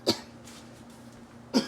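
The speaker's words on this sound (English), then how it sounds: "every time I cough, I get paranoid" Two sharp coughs, one at the start and one at the end, with a quiet pause between them, heard close up in a home kitchen.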